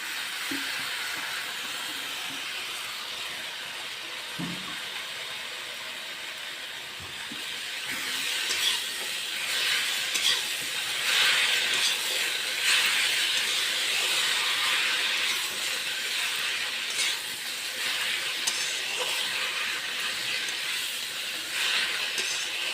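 Spinach added to a hot pan of spices hisses in a steady, close sizzle that swells louder after a few seconds and keeps crackling softly with occasional light clinks.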